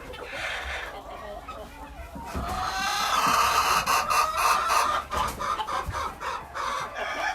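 Hens clucking and squawking close by in a chicken coop during egg collection, a busy, continuous stream of calls that grows louder partway through, with a person talking over them.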